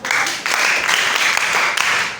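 Audience applause at a jigsaw puzzle competition during a history festival in Nungua, Ghana: dense, steady clapping from a crowd, loud and close, running without a break for a couple of seconds.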